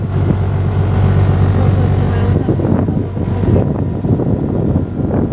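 A private tour boat motors out of a harbor on a three-island trip from Koh Chang, its engine a steady low drone with wind buffeting the microphone, loud and close throughout, with voices faintly in the background.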